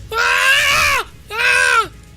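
A voice imitates the shrieks of a man burned alive during tabletop role-play: two long, loud, strained wailing cries, the first about a second long and the second shorter after a brief gap, each bending downward at the end.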